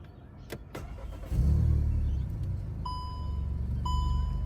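A VW Golf R-Line engine with a resonator delete cranks and catches, then settles into a steady low idle rumble, with two short electronic dashboard chimes sounding afterward.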